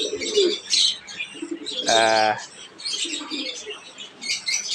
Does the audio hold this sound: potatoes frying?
no